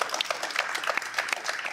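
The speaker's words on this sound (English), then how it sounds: "give Charlie Kirk a nice round of applause" Crowd of students applauding at a televised political event, a fairly quiet, continuous patter of clapping heard at a distance for a short stretch.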